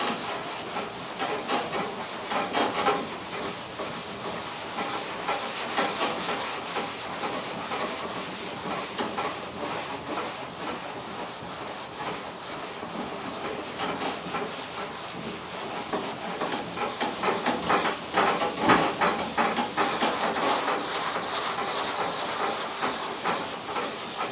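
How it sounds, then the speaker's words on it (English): Sandpaper works back and forth over primer on a filled repair area, in a cross-hatch pattern. The abrasive rubbing is steady and close and continues without pause, with no talking. "And you're also sanding your primer."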